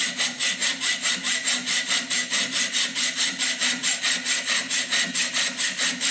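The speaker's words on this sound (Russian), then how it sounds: "Потом берете ножовочку и по отмеченному начинаете пилить" A hand hacksaw cuts steadily with rapid, even back-and-forth rasping strokes, about four per second, close and clear with no talk.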